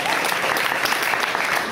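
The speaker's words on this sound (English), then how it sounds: "round of applause to the Citadel for these chandeliers" Brief burst of audience applause at a Nerd Nite talk in Edmonton, held in the Citadel venue, steady dense clapping from a crowd throughout.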